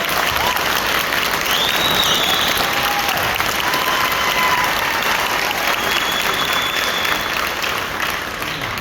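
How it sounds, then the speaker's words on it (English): Loud, sustained applause from a high school concert band audience at a spring concert fills the hall, dense steady clapping that never lets up. "So let's give them one more round of applause."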